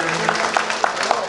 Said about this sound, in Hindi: थोड़ा जोरदार ताली तो बजाइएगा